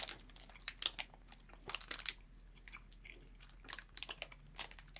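Close, wet chewing of a chewy Australian candy, with sticky crunches and smacking bites coming in uneven bursts, quiet between chews and without any talking.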